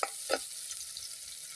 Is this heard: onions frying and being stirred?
yes